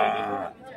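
Bull lowing briefly at a large open-air cattle market in Krishnagiri district, Tamil Nadu, a short nasal call that fades out within a second.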